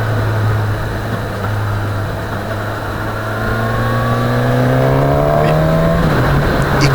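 A 2019 Suzuki Katana motorcycle engine revs loudly and close, its steady idle-like drone climbing through a long rising sweep and then dropping sharply near the end, with no talking over it.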